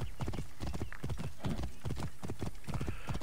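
Horse hooves pound in a fast galloping rhythm as a rider crosses terrain in Assassin's Creed Origins, dense repeated clip-clop beats continuous and close throughout.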